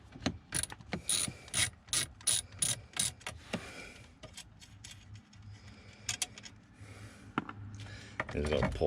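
A ratchet loosens a small nut on a 2013-2017 Subaru Crosstrek while the flasher relay is being replaced, giving rapid rhythmic clicking bursts up close. Quieter handling and scraping noises follow.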